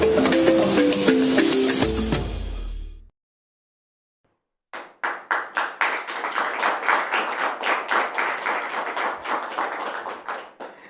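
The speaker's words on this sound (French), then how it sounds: "Les applaudissements sont des applaudissements nourris" After a burst of music and a brief silence, a small studio audience claps in a steady rhythm, each clap distinct and close, continuing for several seconds without voices.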